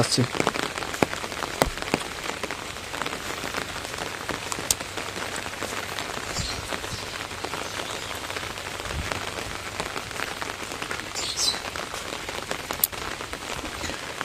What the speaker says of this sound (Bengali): কয়েকদিন থেকে এমন পরিমাণ বৃষ্টি হচ্ছে